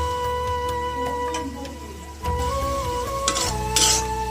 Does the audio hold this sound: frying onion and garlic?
yes